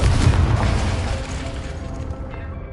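A Confringo blasting spell in Hogwarts Legacy bursts at the start and fills the short stretch with a loud, low rumbling explosion that slowly settles.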